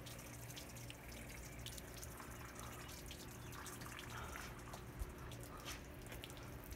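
Water draining from a Mercruiser marine engine block through drain hoses, a steady low trickle and wash heard alone under a constant background hum.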